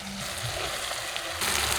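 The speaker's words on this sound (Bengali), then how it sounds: "এবার কড়াইয়ে টমেটো কাঁচা লঙ্কার উপরে পেঁয়াজ কুলি দেবো" Onions hit hot oil in a pan on top of tomatoes and green chilies, a dense steady sizzle that jumps louder partway through and keeps crackling up close.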